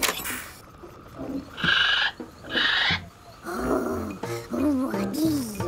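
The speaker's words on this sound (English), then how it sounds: "Oh, yes, that's a kiwi." A cartoon kiwi bird calls in a series of shrill, whistling cries, with a few low grunting and warbling animal-like sounds in between. The calls come in separate bursts and are loud and close.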